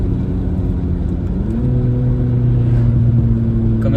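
A 2019 VW Polo GTI engine drones steadily and loudly, its pitch dropping and settling as a paddle shift changes gear midway, with the engine note continuing strong afterward.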